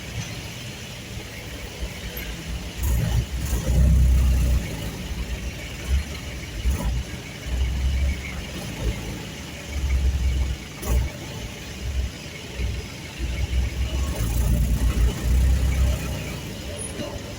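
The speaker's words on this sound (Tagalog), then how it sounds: "Traffic, nakakantang traffic." Road traffic on a rainy day, with car and heavy vehicle engines rumbling close by, low surges rising and falling as vehicles pass, and a brief air-brake-like hiss among them.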